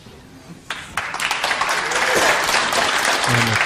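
Audience applause fills a hall during the 2006 World Cup of Pool final between the Philippines and the USA, starting with a few claps before swelling into steady, dense clapping that stays loud through to the end.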